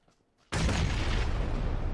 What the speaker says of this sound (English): I'm gonna try to throw a nade through that tiny. Never mind, I'm throwing a nade.